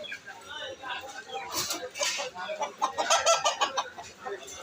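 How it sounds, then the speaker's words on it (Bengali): Small, lively hill chickens at a village market cluck and squawk in bursts, loud and close, with people talking among them. "এই পাশে মুরগিটা দেখাই,"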